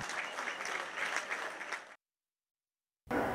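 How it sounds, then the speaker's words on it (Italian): A theatre crowd applauds loudly and steadily for about two seconds, cuts off into silence, then the applause bursts back in. "Sansovini, con il pubblico del Savini in piedi ad applaudire."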